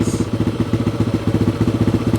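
A Yamaha TTR 230 dirt bike engine with a small pilot circuit, still warming up, runs close and loud with a rapid, steady pulsing beat and a hunting, revvy idle.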